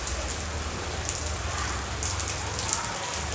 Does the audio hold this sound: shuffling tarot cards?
no